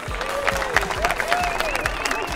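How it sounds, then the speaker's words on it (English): Crowd applauds the winners of a first annual ladies' angler fishing tournament at Los Sueños, brief clapping and cheering under a loud rhythmic thumping music beat, with a voice partly audible. "One last big, huge round of applause from everybody for these ladies."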